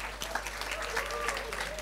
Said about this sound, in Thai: ขอเสียงปรบมือให้โซโลอิสต์ของเราด้วยนะคะ